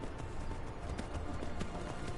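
Horse galloping in Skyrim, a steady run of hoofbeats close and loud throughout, with no talk.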